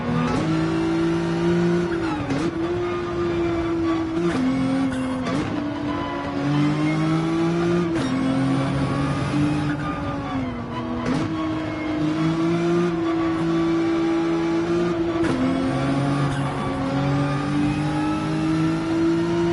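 A race car engine in Gran Turismo 7 revs and accelerates steadily, loud and close, with repeated gear shifts dropping the pitch before it climbs again, and no talk over it.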